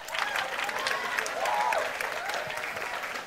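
An audience claps at a wealth and financial success talk, steady broadband applause filling the whole stretch at moderate loudness with no talk over it.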